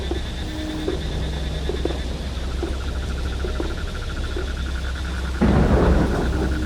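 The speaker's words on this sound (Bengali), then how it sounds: "আর বৃষ্টি যেন একই রকম ভাবে হয়েই যাচ্ছে।" Steady rain falls alongside low rumbling thunder, with frogs and insects calling through it; the downpour swells louder near the end.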